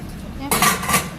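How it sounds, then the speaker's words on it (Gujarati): Dishes and utensils being scrubbed by hand at home, clattering and scraping steel pots and cutlery in a couple of loud bursts after a quieter stretch, close up. "આટલા વાસણ ઘસવાના."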